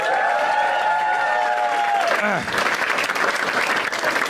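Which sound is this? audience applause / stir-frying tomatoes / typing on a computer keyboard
audience applause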